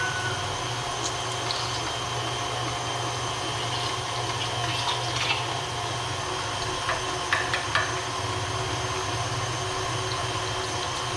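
An electric meat grinder runs continuously with a steady motor drone, grinding beef chunks, with faint clicks and knocks scattered through the constant hum.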